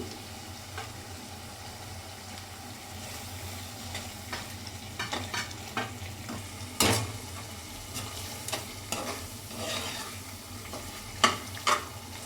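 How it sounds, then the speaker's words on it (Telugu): Tomatoes frying with spices in a pan, a steady low sizzle broken by repeated stirring scrapes and clacks, with a sharper spoon strike near the middle and a couple more toward the end. "టమాటోస్ని బాగా ఫ్రై చేసుకోవాలి"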